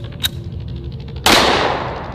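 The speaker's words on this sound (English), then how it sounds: "round we're gonna be using is a 50 AE 350 grain full metal jacket." A 50 AE hand cannon fires a 350 grain full metal jacket round: one sharp, loud, close blast that rings out and decays over the next second, preceded by a small click.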